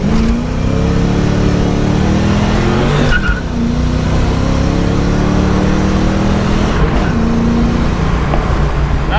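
A 1989 Ford Mustang accelerates hard with a loud, close engine roar climbing through the gears, a brief tire chirp marking the shift into third before the revs rise again.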